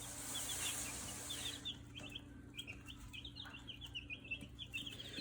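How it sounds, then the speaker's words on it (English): Meat bird chicks on day 3 in a brooder with a heater, giving soft, steady peeping and clucking chirps that keep up throughout over a low, constant background hum. "Well, it is day 3 with the chickens."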